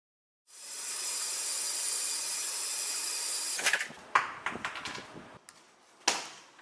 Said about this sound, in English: I decided to switch the weapon for a hammer connected to a motor.